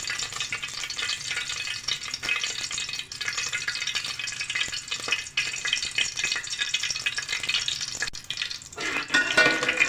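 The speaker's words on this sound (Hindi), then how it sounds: "जैसे घी गरम होगा तो इसमें छोटी इलायचियाँ" Small cardamom pods frying in hot ghee in a pan, a steady close sizzle and crackle with occasional stirring scrapes throughout.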